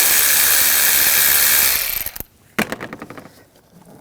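A 7mm socket ratchet works the air intake clamp on a 2006-2009 Audi S4, giving a burst of close, crisp, rapid clicks after a stretch of steady broadband hiss.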